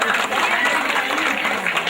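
An audience at a school annual day celebration claps for students after a sports prize announcement, a continuous crowd applause mixed with chatter and an announcer's voice.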